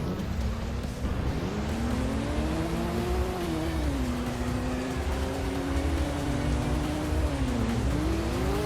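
A monster truck engine in a mobile racing game revs continuously, its pitch climbing and dipping in repeated swells as it accelerates and eases off, loud and steady over a constant game background.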